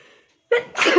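A single loud, close sneeze bursts out after a short silence, a sharp intake followed by a forceful, noisy release.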